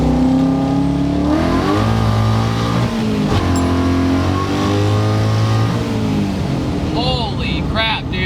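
Supercharged 1999-2004 Mustang accelerating hard: a loud, close engine rising in pitch through several gear pulls with a steady whine, with people talking and exclaiming over it.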